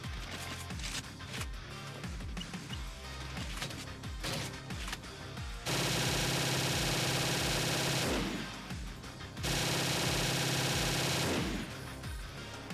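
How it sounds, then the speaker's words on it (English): An MG42 machine gun firing in a video game, loud and close, with short bursts giving way to two long sustained streams of rapid automatic fire. "Next up is the other hidden weapon, the MG42"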